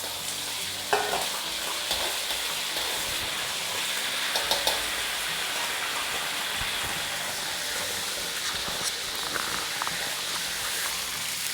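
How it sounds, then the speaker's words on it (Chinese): Pork belly stir-frying in oil left over from frying garlic, a steady close sizzle with spatula stirring and scraping throughout and no talking. "再放入五花肉煸炒一下"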